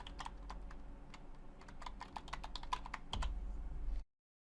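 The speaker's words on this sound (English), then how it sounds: "we're going to type in our username and password." Username and password go in on a computer keyboard, a quick run of close, crisp key clicks at an uneven pace over a low hum, stopping abruptly into silence.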